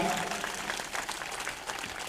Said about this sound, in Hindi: और एक बार जोरदार तालियां बजा करके हम अभिनंदन करें